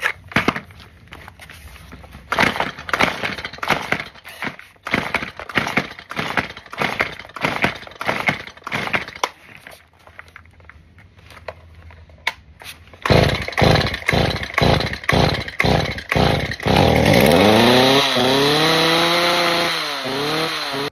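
A STIHL chainsaw bought at a garage sale is pulled repeatedly in a rhythmic series of loud close starter-cord rasps, then fires and runs with revving bursts before settling into a steady roaring drone.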